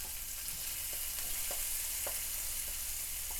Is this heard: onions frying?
yes